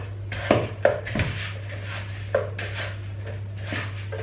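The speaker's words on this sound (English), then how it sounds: "I'm just going to start using my hand to pull it together." Hands pull a stiff, two-ingredient yeast-free pizza dough together in a bowl, giving a few sharp clinks and knocks against the bowl followed by soft rubbing and scraping, all over a constant low electrical hum.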